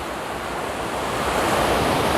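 Gentle ocean waves wash over bare feet on wet sand, a continuous near rushing surge that swells slightly louder toward the end, with no talking.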